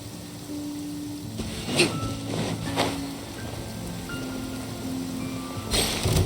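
Steady rain falls in the video game Genshin Impact, a continuous broadband wash with a few brief louder swells, heard alone with no talking.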